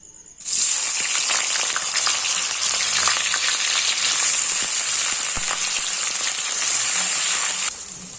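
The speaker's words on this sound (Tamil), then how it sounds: "இப்போ இந்த பன்னீரை இதில் பொரிச்சு எடுத்துக்கிறோம்." Paneer cubes sizzle and crackle steadily in hot oil in a pan for Tamil-style paneer matar masala, a loud, close, continuous frying hiss with no talk over it.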